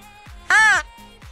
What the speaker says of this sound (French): Il y a 4-5 corneilles qui arrivent.